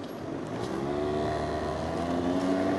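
Car interior while driving in traffic, a steady engine drone with rising tonal hum as it accelerates, continuous and moderately loud with no talk.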